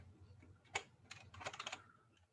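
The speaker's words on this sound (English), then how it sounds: "If I can type, the keyboard's getting a little stiff." Typing on a stiff computer keyboard, a few quick clusters of soft key clicks close by, with a pause between bursts.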